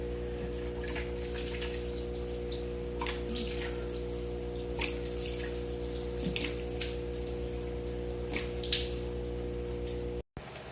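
Tap water running while soap is rinsed off a face, a steady faint splashing with a few brief splashes over a constant low hum, ending in a short dropout.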